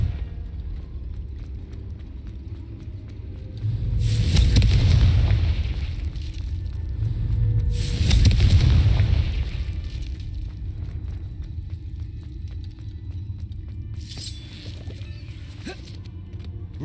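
Two deep booming blasts of a Confringo fire spell in Hogwarts Legacy, each a swelling rumble with crackling debris lasting a couple of seconds, over a steady low ambient game hum, with faint later pops.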